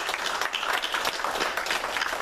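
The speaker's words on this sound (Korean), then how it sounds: "다 함께 큰 박수로 환영하도록 하겠습니다" A church congregation at a Sunday worship service claps together to welcome returning members, a steady dense applause filling the room at moderate distance, with no pauses.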